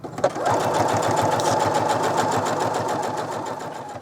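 A sewing machine runs steadily at a quick even pace, its rhythmic needle clatter stitching a quarter-inch seam around a bucket hat brim, close and uninterrupted for several seconds.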